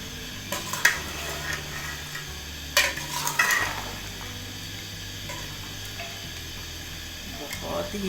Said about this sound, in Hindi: बहुत ही हल्के हाथों से चम्मच लगाना है।